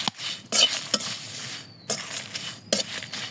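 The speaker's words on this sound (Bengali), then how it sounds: "মশলাটা আমি এই যে শুকনা খোলায় ভালো মতো একটু তুলে নেব" Spices dry-roasting in a dry pan for a sweet, sour and spicy mango oil pickle, stirred in a few distinct bursts of scraping and light rattling, close by, with quieter gaps between strokes.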